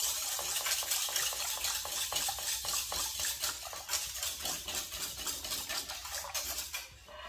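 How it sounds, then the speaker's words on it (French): A whisk or spoon stirring seasoned cream with salt, pepper and nutmeg in a mixing bowl for gratin dauphinois, a close, steady run of rhythmic scraping and clinking strokes without talk. "je mélange"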